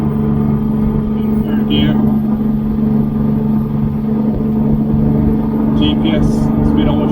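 An MGB converted with a Camaro V6 accelerates in third gear past the speed limit, its steady mid-low engine drone with a Weber carburettor's induction noise running loud and close throughout, under a man's in-car talk.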